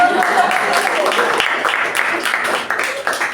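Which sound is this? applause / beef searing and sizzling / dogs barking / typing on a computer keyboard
applause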